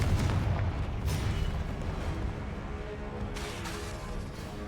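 A Confringo spell explosion in Hogwarts Legacy bursts with a heavy, booming blast at the start, then a second impact follows as a low rumble fades steadily behind it.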